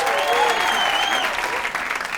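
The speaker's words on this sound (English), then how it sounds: "Let's give a big round of applause" A big round of applause for a volunteer coming up on stage at a comedy improv show, loud sustained crowd clapping with whoops and cheers mixed in, easing slightly near the end.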